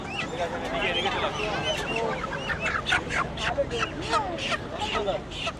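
Chickens cluck and squawk in quick, uneven bursts, close by, mixed with other fowl calls and some voices in the background.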